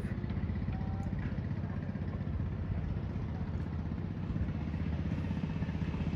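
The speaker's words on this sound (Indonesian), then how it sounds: "Suara pompong ini begitu besar ya," A pompong boat's big slab-type engine, built like a mill engine, chugs steadily and loudly close by in a rapid, even rumbling clatter, with no talk, on a trip among the Anambas islands.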